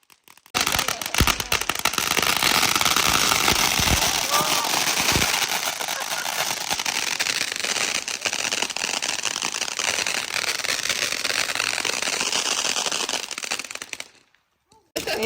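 A long, dense barrage of whistling Diwali firework bangs and crackles rattles on nonstop, close and loud, then cuts off abruptly near the end.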